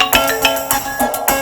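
A phone rings out on a speakerphone call, sounding as a loud, rhythmic electronic ringing tone with evenly spaced bursts across the whole moment.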